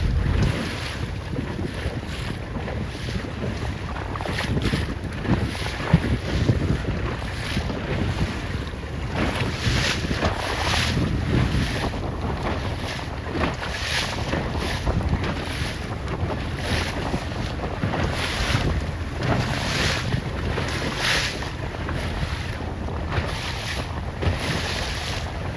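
Strong wind gusts buffet the microphone throughout a sailboat regatta of Laser dinghies, with a continuous roar and water sloshing against the hull, no voices.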